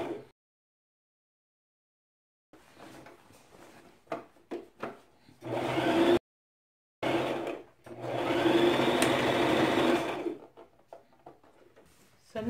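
A sewing machine stitches a half-inch pillowcase seam in bursts of steady whirring, with long runs and short stops between, close and moderately loud, with quiet handling noises in the pauses.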